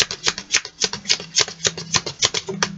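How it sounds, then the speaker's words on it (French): Tarot cards shuffled and drawn by hand, a brisk rhythmic run of close, crisp riffling slaps, about a dozen in quick succession, with no speech over them. "On va tirer 3 cartes."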